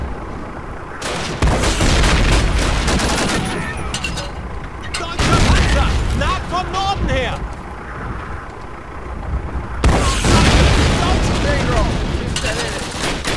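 Bursts of gunfire and heavy explosive blasts in Call of Duty: United Offensive, loud and close in several rapid volleys separated by brief lulls, with someone talking in between.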